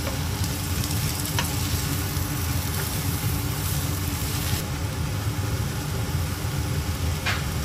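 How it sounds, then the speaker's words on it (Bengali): Chopped carrots and three colours of capsicum sauté in butter with salt and pepper, a steady close sizzle throughout with a few faint clicks of stirring. "আমি প্রথমে গাজর কুচি বাটার দিয়ে সামান্য ভেজে 3 রঙের ক্যাপসিকাম দিয়ে দিব।"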